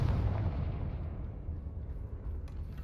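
A fiery blast spell explodes in a Harry Potter video game, a loud booming rumble that decays slowly into a lingering low roar with a faint crackle near the end.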